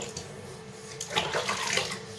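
Warm tap water runs and splashes while a corgi puppy is bathed, a short, moderately close, continuous gush that swells after a moment.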